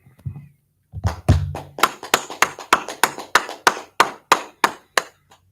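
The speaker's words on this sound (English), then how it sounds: "All right, everybody clap it up." A group clapping in unison at a religious street gathering in Houston, starting with a few scattered claps and settling into a steady rhythm of about a dozen sharp, evenly spaced claps.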